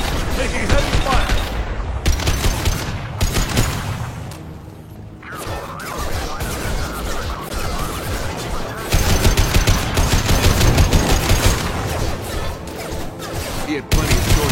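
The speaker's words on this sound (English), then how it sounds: "Taking heavy fire." Heavy automatic gunfire in a shooter video game plays loud and nearly continuous for about fifteen seconds, with crashes and brief lulls and occasional voices mixed in.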